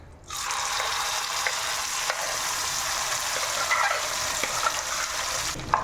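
Mashed chana dal cooking in ghee over a low flame for halwa, a steady close sizzle with occasional stirring scrapes running continuously throughout.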